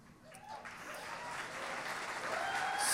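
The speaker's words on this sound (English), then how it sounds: "Big round of applause for the graduates" A graduation ceremony audience applauds the standing graduates. The clapping starts faint and distant and swells gradually, staying fairly quiet overall.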